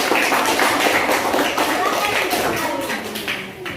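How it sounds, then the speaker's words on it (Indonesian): A small class claps for a classmate in a classroom: brisk, close, dense hand clapping that fills the moment and trails off toward the end, with faint voices mixed in. "kita kasih dulu aplaus untuk teman kita"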